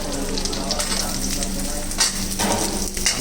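Garlic and vegetables fry in a hot pan for a healthy vegetable soup, giving a steady, close sizzle with brief louder crackling bursts and no talking.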